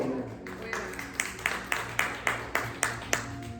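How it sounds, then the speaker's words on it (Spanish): Soft rhythmic clapping in a church service, evenly spaced beats like a steady hand-clap pattern, fairly faint with a low hum beneath. "me va a dar un fuerte aplauso al Señor Jesucristo"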